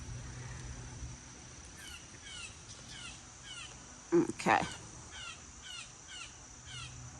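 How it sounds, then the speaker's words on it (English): A bird calls repeatedly outdoors in the morning, short harsh screeching cries at a moderate distance, with a brief louder sound and someone speaking a word in between. "I don't know if that's a bird that's screaming like that. Yes, it is. I don't think that's a blue jay, is it?"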